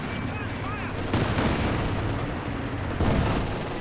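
Machine-gun fire and scattered gunshots from a Company of Heroes 2 battle crackle steadily throughout, with louder bursts, amid continuous combat noise and a voice speaking.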